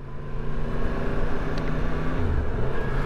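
Yamaha MT-10 motorcycle riding on the road, a loud steady engine drone with wind rumble close to the rider, the pitch shifting slightly as gears change smoothly.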